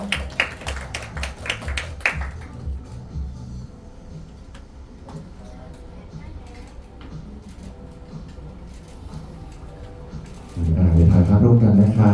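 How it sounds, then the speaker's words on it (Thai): Brief applause from an audience at a fan meeting press conference opens the scene, then fades under someone talking over a microphone, before a louder burst of sound returns near the end. "ผมขอเสียงปรบมือด้วยนะครับ"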